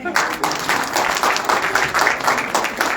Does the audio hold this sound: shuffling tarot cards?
no